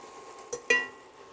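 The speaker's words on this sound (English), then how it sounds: "We're going to go in with our carrots because it takes longer time to cook compared to the rest of the vegetables" Thin, small carrot pieces stir-fried in a pan for a cabbage, carrot and collard greens stir fry; a low sizzle runs under two short, close scraping stirs, the second louder.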